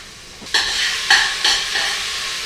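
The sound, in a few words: sautéing Chinese sausage in a pan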